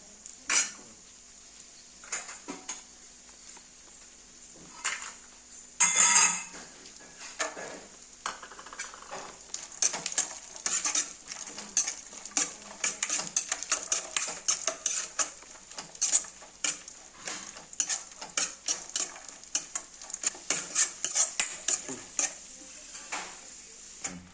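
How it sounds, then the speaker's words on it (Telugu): Cashews, almonds and raisins being lightly fried in a pan for rava kesari, with a steady soft sizzle and repeated scraping and stirring clicks of a utensil against the pan, close and alone without talk. "జీడిపప్పు బాదం పప్పు వేయించుకోవాలి దానిలో కిస్మిస్ కూడా కొంచెం"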